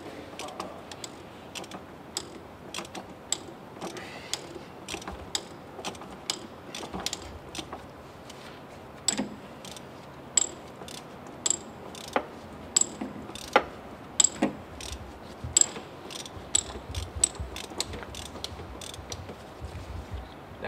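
A ratchet wrench loosens a fastener during a full truck service at a truck stop in Shreveport, Louisiana, clicking in quick, steady runs of sharp ticks over a low background hum.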